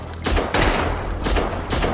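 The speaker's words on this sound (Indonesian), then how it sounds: "Jual beli pelor antara tim Chen dengan anak buah kasar masih berlangsung sengit" Rapid gunfire in a shootout from the film Blackhat, several loud bursts of shots overlapping in quick succession with a noisy, echoing background.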